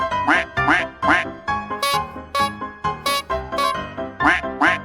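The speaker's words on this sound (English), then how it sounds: "Quack, quack, quack, quack." A video game duck quacks in a quick, steady run of about a dozen loud, close, nasal calls.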